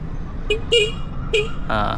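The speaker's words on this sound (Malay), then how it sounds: "So bunyi horn dia" A QJ Motor ATX 250X adventure scooter's horn beeps three times in short, bright toots, followed by a brief buzzy tone, with faint background noise.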